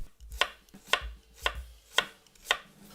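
A knife slices through a firm radish against a cutting board in five steady, evenly spaced thunks, close and clear.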